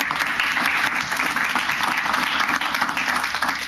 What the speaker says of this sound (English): we could give an applause to our panelists and our moderator